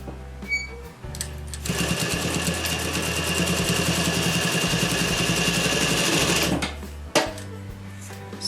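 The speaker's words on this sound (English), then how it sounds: "So let's just stitch that." A sewing machine stitches the seam of a homemade pillow insert, running in a steady, fast, continuous whir for about five seconds between quieter handling noises.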